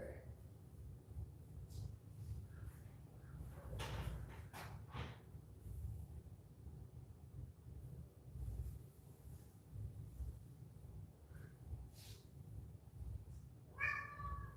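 A domestic cat meows a few times at a distance over a low rumbling background, with brief louder calls near the middle and a clearer meow at the very end.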